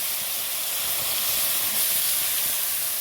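Ginger, garlic, mustard seed and chili sizzle in hot oil with a constant bright hiss, close and loud throughout, with no talking.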